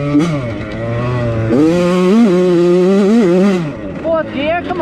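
A Yamaha YZ85 dirt bike engine revs on a sandy motocross track with Factory Connection suspension, rising and falling through several loud, close pitch sweeps.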